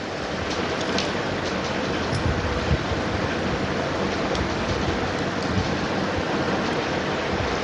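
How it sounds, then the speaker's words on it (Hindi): Water is squeezed out of grated bottle gourd by hand, giving a steady, close, hissing trickle and splash that runs without pause and without talk. "इस तरीके से मैंने इसका पानी अच्छे से निकाल दिया है"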